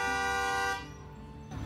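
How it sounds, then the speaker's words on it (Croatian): A car horn blares in street traffic in China, one long loud toot that cuts off partway through, leaving engine rumble and road noise. It sounds fairly close, and nobody speaks. "Neki Kinez je lud, trubi od jutra."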